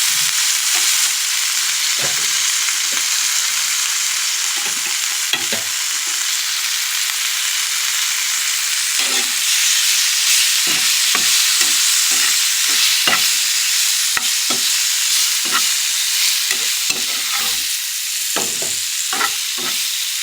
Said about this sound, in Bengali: তো আমি এটা একটু নাড়াচাড়া করে ভেজে নিই